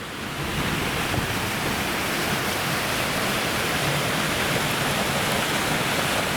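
A mountain creek near Burns Meadow, in a burned area, rushes steadily over its bed, a broad continuous roar close by with no voices.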